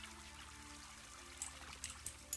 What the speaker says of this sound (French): Les ruisseaux.